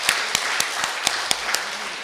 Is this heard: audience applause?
yes